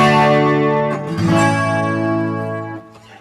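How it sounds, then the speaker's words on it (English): Electric-acoustic guitar run through chorus and reverb effects, a strummed chord ringing out with a lush shimmering wash, restruck once near the start and sustaining loudly before fading, with no talking. "If you put chorus into that and some reverb,"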